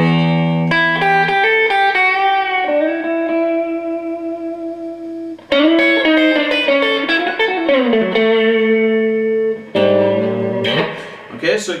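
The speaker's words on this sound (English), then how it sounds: "A little bit more if I put in reverb up to about 8." Electric guitar through a Soldano Astroverb 16 1x12 combo with the reverb raised to about 8, sustained chords and bending notes that bloom into a long, wet, chiming tail, played close and loud without speech.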